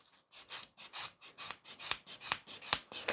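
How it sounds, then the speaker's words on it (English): A nail buffer rubs across the whole surface of a fingernail in quick, even back-and-forth strokes, a soft rhythmic rasping heard close up with no talking. "So I'm just buffing entire nail."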